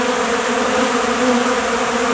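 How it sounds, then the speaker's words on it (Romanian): Honeybees swarm outside the hive in February after being fed protein, making a dense, continuous buzzing that fills the air up close without talk. "această hrană stimulează foarte tare albinii să iasă din stup"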